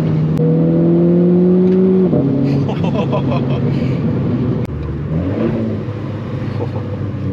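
A loud Renault 4 RS Trophy sports car engine revs up and drops in pitch, rumbling on between rises, with people talking over it.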